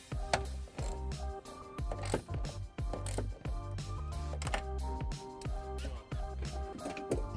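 A hand ratchet tightens a hex nut onto a ring connector during trailer wiring installation on a 2013 Kia Optima, making a rapid series of sharp mechanical clicks over a steady tonal background hum.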